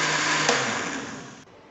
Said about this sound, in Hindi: अब हम इसको बंद करेंगे ब्लेंडर को।